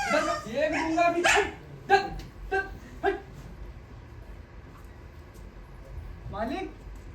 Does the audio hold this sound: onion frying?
no